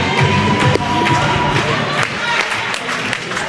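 Spectators at a women's handball league match in a sports hall cheer and shout loudly and steadily, a dense crowd roar with scattered claps and whistles throughout.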